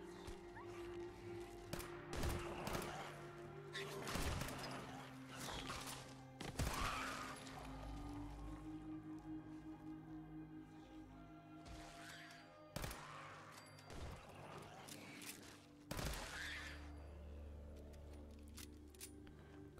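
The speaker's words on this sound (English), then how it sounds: "This gun is automatic. I'm just tap firing to preserve ammo." An automatic gun is tap-fired at mole rats in Fallout 4, sharp single and short-burst shots spaced every few seconds over a steady, low hum of game ambience.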